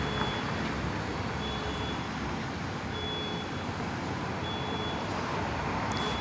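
A tow truck backs up with faint, evenly spaced reversing beeps repeating over a steady wash of road noise and outdoor rumble, with no talking.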